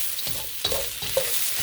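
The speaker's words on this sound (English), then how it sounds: "So I'm gonna stir these until they get kind of translucent." Vegetables for a pepper beef stir fry stirred in a hot frying pan, with several scraping strokes of the utensil over a steady sizzle, close and fairly loud, no talking.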